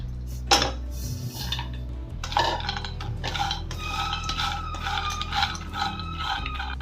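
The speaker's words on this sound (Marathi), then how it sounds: "गॅसवरती कढई ठेवलेली आहे शेंगदाणे भाजून घ्यायचे आहेत" Peanuts dry-roasting in a kadhai on a gas stove, with repeated close scraping and clinking of a metal spoon stirring the nuts against the pan, a steady rattling rhythm and no talking.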